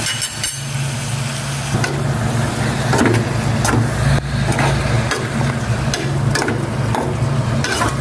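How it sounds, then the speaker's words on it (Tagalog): Squid for adobong pusit sautés in a pan with a continuous close crackling sizzle, broken now and then by the sharper scrape of stirring, and no one speaking. "Ilagay ko na itong pusit para magisa."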